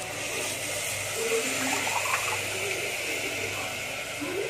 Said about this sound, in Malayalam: ആ ഒരു അളവിൽ നമുക്ക് വെള്ളം ഒഴിച്ചു കൊടുക്കാം.